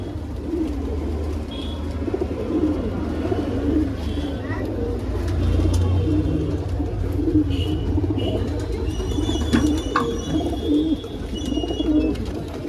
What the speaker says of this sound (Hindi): सब बेहतरीन कबूतर है, बेहतरीन क्वालिटी के कबूतर